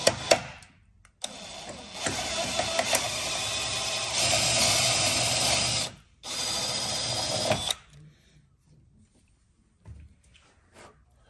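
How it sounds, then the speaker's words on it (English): A power drill with a 5mm bit bores into a car hood in two steady whirring runs separated by a short pause, followed by quieter handling noises. "using the 5mm drill bit that I said earlier in the film"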